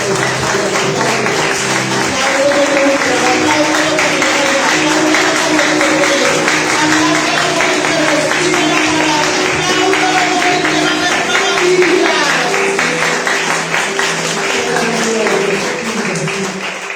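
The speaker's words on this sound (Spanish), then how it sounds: "Dale un aplauso al Señor." A congregation at a Spanish-language fasting service claps for the Lord, loud continuous applause mixed with cheering voices and a sustained musical tone beneath, lasting the whole stretch.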